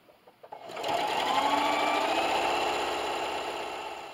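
A sewing machine runs a straight stitch through fabric for freeze pop holders, starting after a few soft clicks and settling into a close, continuous whirring hum that fades slightly toward the end.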